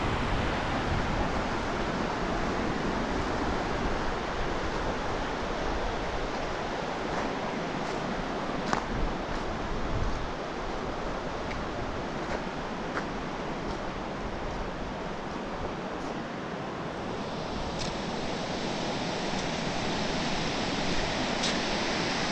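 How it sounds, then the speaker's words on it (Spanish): The strong current of the Azusa River rushes steadily in a loud, continuous broadband roar that stays constant throughout, with no talking. "Miren la gran correntada de agua que tiene."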